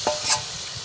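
Coconut milk is poured into sizzling prawn masala, giving a short close splash and hiss against a soft frying background.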